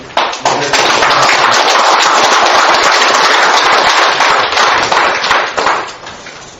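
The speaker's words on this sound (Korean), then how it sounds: "뜨거운 박수로" Loud, dense applause from a large audience at a panel discussion, many hands clapping fast and steadily before tapering off toward the end.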